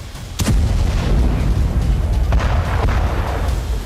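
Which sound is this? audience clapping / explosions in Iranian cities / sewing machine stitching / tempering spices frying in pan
explosions in Iranian cities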